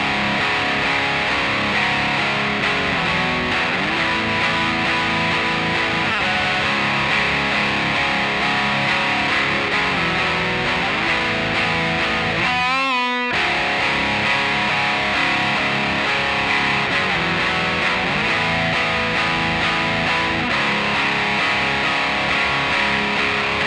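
A heavy, sludgy distorted electric guitar plays the chorus riff of a song, chugging along steadily, thick and loud, with a brief dropout near the middle before the riff resumes.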